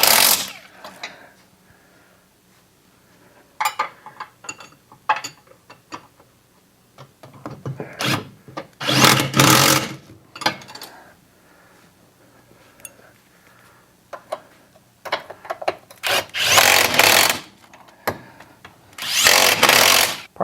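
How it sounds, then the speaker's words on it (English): Short bursts of an impact wrench tightening a nut on a Husqvarna RV30 zero-turn mower, loud rattling whirs of a second or two separated by pauses and handling clatter, close up. "Sometimes you can put a impact on something, it'll spin fast enough that you don't have to hold the nut on the other side and it'll tighten."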